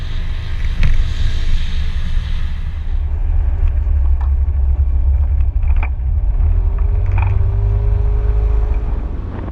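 A Yamaha TriCity 125 three-wheeled motorbike being ridden, its low engine rumble steady and loud throughout, with wind and road noise and a faint whine rising near the end.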